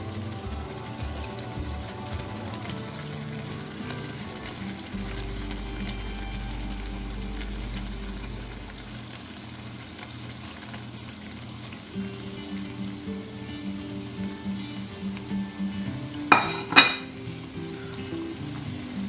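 Eggs cooking in an Indian egg masala curry gravy: a continuous sizzle and gentle bubbling in the pan, with a low steady hum beneath and a couple of sharp clatters near the end.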